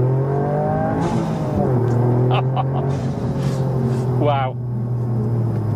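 A Litchfield-tuned Toyota GR Yaris rally homologation hatchback pulls hard in second gear, its engine note climbing steadily with a loud rising drone and whir under the cabin noise, and a voice exclaiming once.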